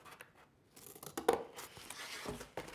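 Scissors cutting through pizza box cardboard, a few close crunching snips and tearing scrapes in irregular bursts, with no talk.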